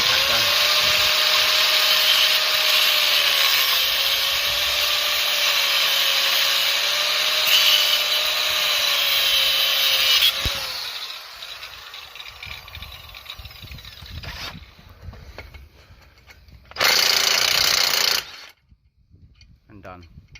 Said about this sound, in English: very quickly with an angle grinder.